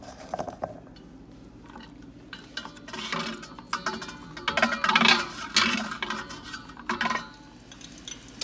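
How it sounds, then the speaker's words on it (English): Vegetables being stirred into tempura batter in a bowl give irregular clinks, scrapes and wet clacks of a utensil against the dish, sparse at first and then busier. "I'm going to add the vegetables into the batter till I get the right amount. I don't want to overdo it. So I'm going to stir as I go"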